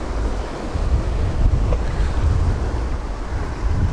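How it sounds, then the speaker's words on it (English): Big waves wash and churn on Lake Superior while wind buffets the microphone, a steady, loud, close rush of surf with no voices. "the waves out here are just big enough to make me nervous"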